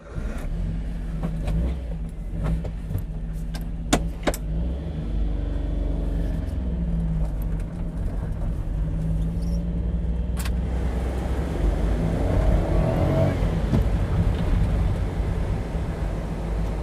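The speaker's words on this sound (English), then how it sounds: "So let's go for a little drive." A restored kei car drives along with a steady engine drone and rumbling road noise, close and continuous throughout, with occasional clicks and knocks from the cabin.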